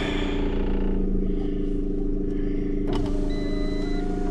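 A Fiat 500S engine idling steadily with a low, even hum and faint mechanical clatter, then a brief clunk and a thin whine rising over it near the end.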